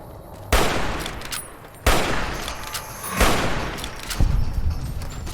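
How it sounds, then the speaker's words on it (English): Gunfire in the game Fallout New Vegas, aimed at a Brahmin with a hunting rifle: four loud, sharp shots spaced roughly a second apart, each followed by a rumbling tail that fills the gaps. "Wow, I missed a lot of shots that I probably shouldn't have"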